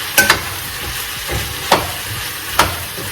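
Leftover chicken stir-fries in a hot pan, hissing under several sharp scraping strokes from a spatula spaced about a second apart, with no voice present.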